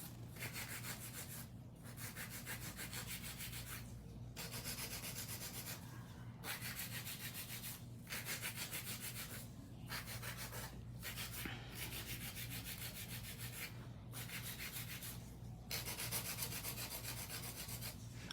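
A nail drill shapes and refines acrylic nails in a steady series of abrasive, rasping strokes, each a few seconds long, with short pauses between passes. The sound is close and quiet, with no talking.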